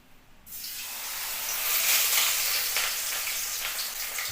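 Food frying in a pan, a loud steady hiss and sizzle that bursts in abruptly after a brief quiet moment and stays dense and close throughout, with no talk.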